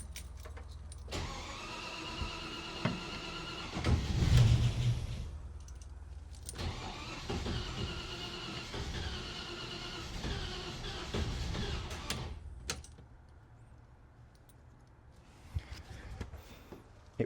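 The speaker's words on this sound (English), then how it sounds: "We're going to go for a start on petrol." Land Rover Series 2A cranking and starting on unleaded petrol after years on LPG, with bursts of starter and engine noise, then a quieter idle, plus a few clunks and rattles nearby.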